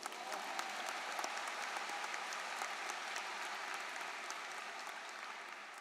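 A large crowd applauding steadily at a high school graduation ceremony, with a thick wash of clapping that holds even throughout.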